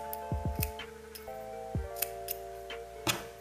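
Scissors snip a yarn end after joining yarns, a few crisp close clicks and cuts spaced unevenly over a few seconds in a quiet room.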